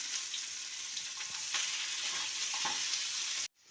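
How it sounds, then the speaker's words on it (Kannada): Soaked almonds, ginger and cumin fry in a pan with a steady, close sizzle and a few stirring scrapes, then the sound cuts off abruptly near the end. "ನೆನೆಸಿಟ್ಟಿರೋ ಬಾದಾಮ್ ಹಾಕೋಣ ಸ್ವಲ್ಪ ಶುಂಠಿ ಒಂದು ಸ್ವಲ್ಪ ಜೀರಿಗೆ ಇದೆಲ್ಲನೂ ಚೆನ್ನಾಗಿ ಫ್ರೈ ಮಾಡ್ಕೊಂಡು ಬರೋಣ"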